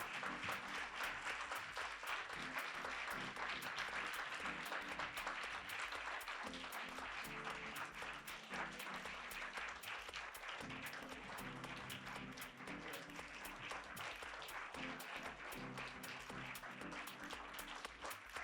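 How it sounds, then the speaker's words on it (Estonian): Audience applause at a literary awards ceremony as prize nominees come onto the stage, a dense, sustained wash of clapping from a large crowd holding steady throughout. "Me palume suure aplausi saatel lavale vabaauhinna nominendid"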